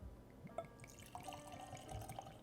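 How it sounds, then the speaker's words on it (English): Woodford Reserve Double Oaked bourbon whiskey pours from its bottle in a quiet, close, steady trickle with light glugs and drips. "See if it's easy to pour."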